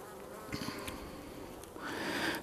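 Honeybees hum steadily from an opened beehive during a mid-November inspection, a close, continuous drone over the brood frames that swells louder toward the end.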